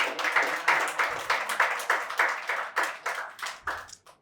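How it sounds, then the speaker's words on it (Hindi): A small audience at a poetry reading claps in a regular, rhythmic beat, each hand clap distinct and fairly close, a steady pulse of about three claps per second that fades out at the end. "एक बार जोरदार तालियां हो जाए।"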